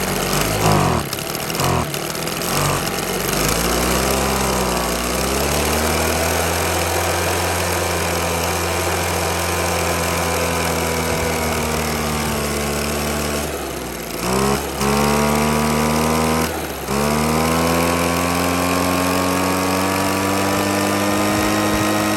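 A Husqvarna 130BT backpack leaf blower engine that is running poorly with a suspected fuel or carburetor fault, droning loudly and steadily, its pitch surging and sagging with brief stumbles and dips.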